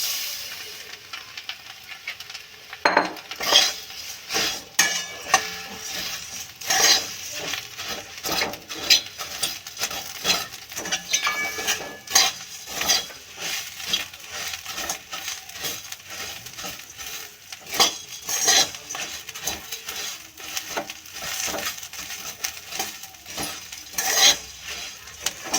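Puffed rice being tossed and stirred with coriander powder and turmeric in a bowl, giving a steady, close-up crisp rattling and scraping with repeated sharper clicks throughout.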